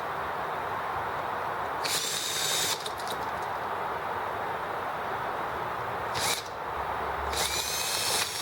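A cordless drill spins up an EM1 engine on a cold day, with three loud whirring bursts: one about a second long, a short one, then a longer final run.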